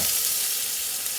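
Butter on a Depression-era water pie sizzles in the oven with a continuous, loud, even hiss and fine crackle, close and unbroken.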